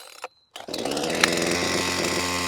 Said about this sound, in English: I'm going to start this chainsaw.